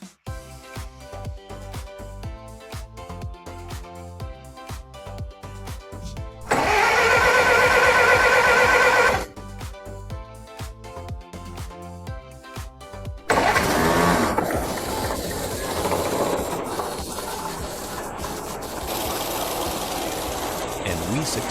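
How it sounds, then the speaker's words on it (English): A restored 1918 Ford Model T engine cranks in short attempts, then catches with a loud rough roar and settles into a steady, close mechanical idle. "we reinstalled it and attempted to start the engine"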